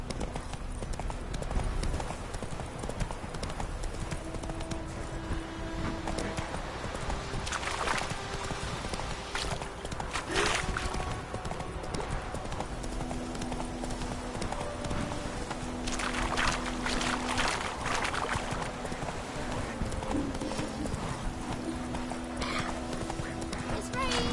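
Horse hooves clip-clop steadily through a video game world from The Witcher 3, a continuous rhythmic walking beat with an occasional whinny, set against in-game music and ambience.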